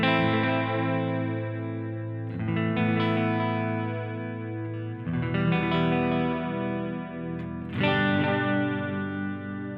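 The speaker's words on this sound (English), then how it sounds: "This is the Echoplex sound." Electric guitar runs through a Strymon Timeline delay pedal in dTape mode set for an Echoplex-style tape echo at 400 milliseconds, giving strummed chords with soft, slightly wavering repeats trailing behind each attack, played loud and close with no voice.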